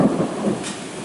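A deep, rumbling roll of thunder close by, low and sustained for about a second, with no voices.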